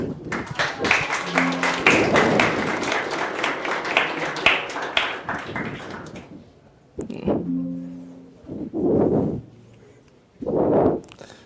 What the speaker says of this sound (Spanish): recibamos con un fuerte aplauso a Adrián Rivera.